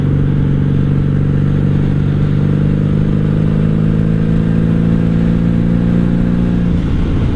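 A 1997 Honda Magna 750 V-four motorcycle engine drones steadily while riding, a loud, close, even hum with strong low harmonics and wind roar, easing off slightly near the end.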